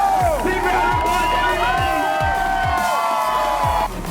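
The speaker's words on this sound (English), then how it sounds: "Big round of applause," Crowd cheering and whooping near the finish line of a Tough Mudder obstacle race, with rising and falling shouts over a steady, thumping beat, loud and continuous throughout.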